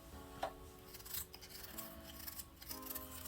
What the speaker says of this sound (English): I just like to use my knife and peel the potato